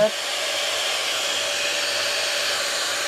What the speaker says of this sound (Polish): 1000 W suszarka, tak? No to włączamy. Pierwszy bieg.